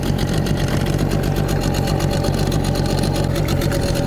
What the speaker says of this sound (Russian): Моторчик потарахтел на холостых.